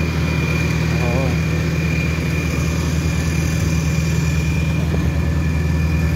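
An Isuzu MU-X idles at a drag strip with a steady, loud, low engine drone under a commentator's voice.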